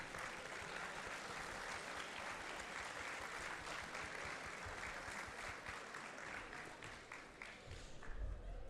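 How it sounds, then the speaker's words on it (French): Crowd applause at the start ceremony of the 24 Heures de Saint-Jo 2025 race, a continuous wash of many hands clapping at a distance, fairly faint and sustained, with a few louder bumps near the end. "Je vous invite à lui faire un tonnerre d'applaudissements également pour sa présence"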